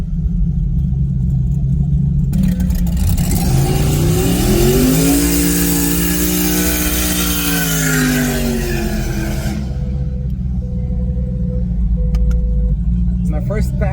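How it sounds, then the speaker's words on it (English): A Corvette E-Ray and a twin-turbo Mustang launch in a no-prep drag race in Texas, with loud engine roar rising in pitch through the gears, a sustained rumble and a rushing pass before the noise falls away. "We're racing Laney's twin turbo Mustang against the E-Ray"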